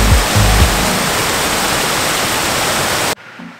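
Skinny Dip Falls, a creek waterfall, roars as a dense, loud, steady rush close by, then cuts off abruptly near the end.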